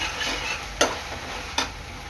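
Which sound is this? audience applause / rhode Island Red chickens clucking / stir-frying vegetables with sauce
stir-frying vegetables with sauce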